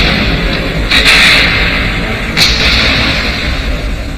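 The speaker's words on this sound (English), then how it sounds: "artillery and machine guns in the German second line opened up on them" Artillery and machine-gun fire from German second-line positions on the Western Front: a dense, continuous rumble of distant gunfire with two sharper bursts standing out, loud and steady throughout.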